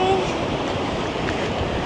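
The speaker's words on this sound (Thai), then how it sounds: "โอ้ คลื่นซัดแรง" Sea waves surge against a beach with a breakwater of piled rocks on a windy day, a loud, steady roar of surf and wind filling the whole stretch without distinct breaks.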